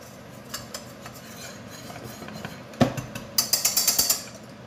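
A spoon stirs flour into melted butter in a pot to make a béchamel roux, giving soft scraping and rubbing, a brief clatter, then a quick run of metallic taps against the pan near the end.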